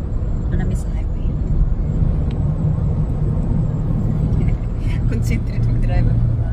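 A car drives along a highway, a constant low road rumble and engine drone close inside the cabin, with people talking over it throughout.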